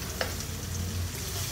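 Garlic, onion and pre-boiled meat sautéing in a pan, a steady close sizzle with a brief stirring scrape near the start.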